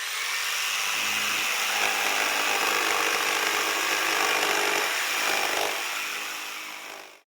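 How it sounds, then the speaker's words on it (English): A loud circular saw whines continuously as it cuts through wood, holding steady for several seconds before winding down abruptly. "a circular saw, and this one makes this sound"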